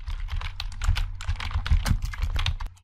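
Rapid typing on a computer keyboard, keys clattering in a steady uneven stream of close, crisp clicks over a low hum, with no talking.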